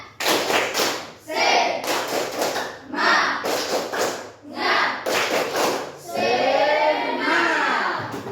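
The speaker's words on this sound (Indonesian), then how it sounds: "Tepuk semangat" A class of schoolchildren performs a rhythmic spirit-clap routine, loud bursts of synchronized claps in repeating patterned groups separated by short pauses, with children chanting and calling out along with the beat, ending in a longer run of mixed clapping and voices.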